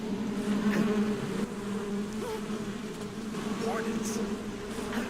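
Bees or hornets buzz steadily and loudly throughout the swarm scene in Metal Gear Solid 3: Snake Eater, a dense droning hum that swells slightly partway through, with faint voices occasionally underneath.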